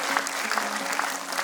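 An audience at a traditional Kazakh concert applauds in a thick, unbroken stream of many hands clapping, even in loudness throughout, with a faint low hum beneath.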